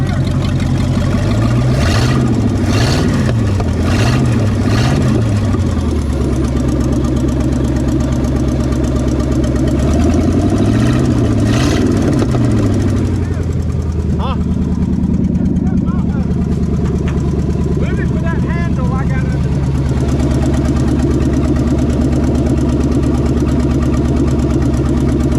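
A 1959 Ford Galaxie Fairlane 500 with a 352 V8, run for the first time in years, rumbles loudly and steadily at idle, its revs rising and falling in a few rhythmic blips while people talk over it.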